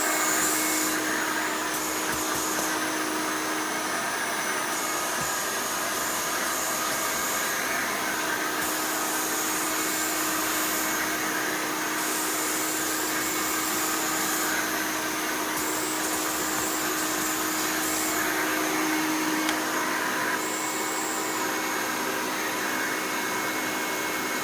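Hoover Elite 400 U4471 upright vacuum cleaner running steadily, a loud continuous motor whine and airflow rush close by with slight pitch wavers, no talk.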